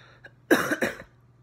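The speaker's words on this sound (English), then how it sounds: "I'm gonna cough" A couple of sharp coughs burst out close to the microphone after a short quiet pause, followed by a brief throaty trailing sound.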